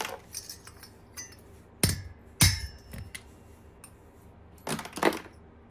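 A hammer strikes a copper and aluminum heat sink to knock its pins out, giving two sharp metallic bangs close together, then a clattering clink of loose metal later, with quiet handling in between.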